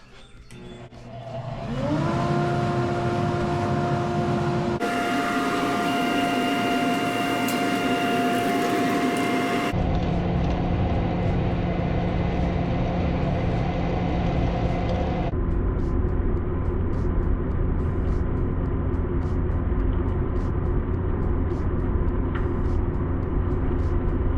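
An upgraded workshop dust collection system starts up, its motor spinning up within a couple of seconds into a steady loud roar, then shifting in tone a few times as it keeps running with no voices.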